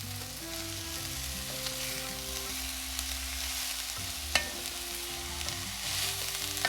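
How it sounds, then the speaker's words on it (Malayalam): Kerala-style cabbage thoran sizzles and fries in a pan while being stirred, a steady close crackle with occasional scrapes and one sharp clink of the spoon, no talking. "ഇതിലേക്ക് 1/2 ടീസ്പൂൺ ഉപ്പും കൂടി ചേർത്ത് നന്നായിട്ട് ഇളക്കി മൂടി വെച്ച് വേവിക്കണം."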